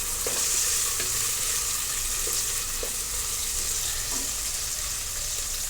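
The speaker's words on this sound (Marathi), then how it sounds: "त्याच्यानंतर आपण आता ही हिरवी मिरची आहे उभी ती टाकून घेणार आहोत व्यवस्थित आपण तेलामध्ये परतून घेणार आहोत" Whole green chillies sizzle steadily in hot oil while being stirred, with a constant bright frying hiss and occasional scrape of the spoon, no talking.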